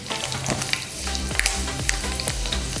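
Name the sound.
fenugreek frying for bitter gourd pickle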